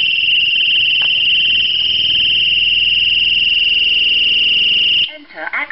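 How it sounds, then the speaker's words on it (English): A loud, piercing electronic alarm from a GE Simon home security system shrills continuously at one high pitch, then cuts off abruptly and a person starts talking. "Alarm canceled. That was loud."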